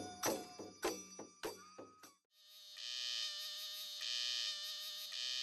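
A cicada in the Manas forest of India gives a steady, loud, high buzzing drone that starts midway and continues to the end, following several sharp percussive knocks at the start.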